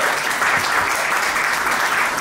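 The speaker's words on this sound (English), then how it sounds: "if we can get a huge round of applause to Mansoor MIRZA" Audience applause at an awards event honouring a community team, a dense, steady round of clapping that fills the whole stretch without pause.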